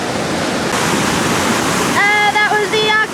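Roaring whitewater rapids on the Lower Gauley River pour in a loud, steady wash of churning water, with a brief whistle-like tone appearing over the rush near the end.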